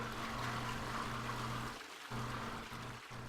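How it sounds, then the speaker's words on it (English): A toilet flushes in Empyrion Galactic Survival, a steady rushing water wash that drops out briefly twice near the end, with no talk over it. "it will do a flushing sound for the toilet, which is quite comical"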